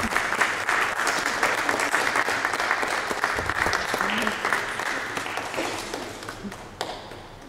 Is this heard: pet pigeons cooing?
no